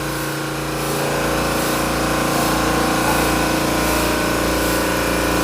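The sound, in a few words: ship engine running in engine room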